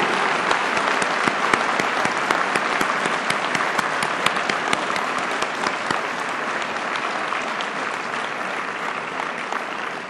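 A large audience applauds a new doctoral graduate in public administration at a university graduation ceremony, loud sustained clapping with dense individual claps throughout, fading slightly toward the end.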